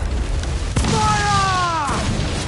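Ship cannon fire in Assassin's Creed Black Flag, a single loud, booming blast followed by a rumbling tail, set against constant noisy game ambience with a brief tonal call over it.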